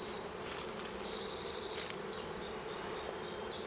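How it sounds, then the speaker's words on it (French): A dense, continuous buzz of many wild black honey bees close by at a mountain apiary hive, steady and droning with no voices. "des abeilles entre guillemets sauvages, noires, en tout cas de couleur noire"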